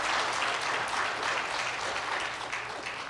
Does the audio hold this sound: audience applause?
yes